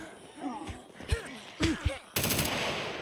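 Gunfire in the video game Scum: a few sharp shots and thuds at moderate distance, followed by a sustained burst of rapid fire, with faint voices underneath.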